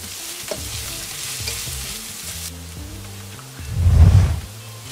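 Minced ginger sautéing in a hot pan with onion for a tokwa't baboy dish, a steady low sizzle with stirring scrapes that swells into a louder burst of frying near the end.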